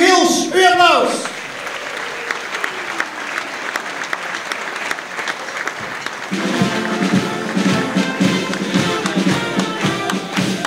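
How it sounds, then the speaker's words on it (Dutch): Audience applause at the Friday-evening prize-giving of Bosuilendorp Sauwelen 2012, for the first performer. A voice is heard at first, then sustained, dense clapping fills the room before music enters over the last part. "Uw applaus!"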